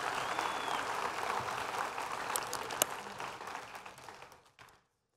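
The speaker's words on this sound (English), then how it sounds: "Everybody give them a round of applause." An audience at a church Bible teaching session gives a sustained round of applause, a dense roomy wash of clapping that fades out toward the end.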